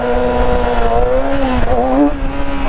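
A Yamaha R6 motorcycle engine revs hard and loud during a wheelie attempt, a sustained high-pitched engine tone that climbs and wavers, with no talk over it.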